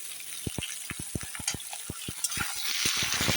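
Potatoes and eggplant frying in a kadai with a steady sizzle, punctuated by a rapid series of sharp scraping clicks as a spatula stirs them, the hiss growing fuller toward the end.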